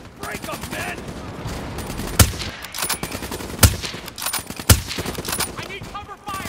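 Sustained rifle and machine-gun fire rattles through a battle in the Call of Duty: Black Ops III mission Demon Within. Three louder nearby shots punch through the dense, continuous gunfire, and soldiers shout underneath.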